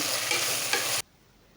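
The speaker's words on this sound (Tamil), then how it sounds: "இஞ்சி பூண்டு பேஸ்ட் நல்லா பச்சை வாசனை போகிற வரையும் நல்லா வதக்கி விடுங்க எண்ணெயிலே." Ginger garlic paste sautés in hot oil with a steady sizzle and stirring scrapes for about a second before cutting off abruptly into near silence.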